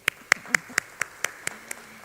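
Eight sharp, evenly spaced claps from a conference audience thanking a presenter, crisp and fairly close, ringing out alone in a steady rhythm before fading slightly.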